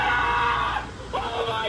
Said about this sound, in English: he does that scream. He does like a scream.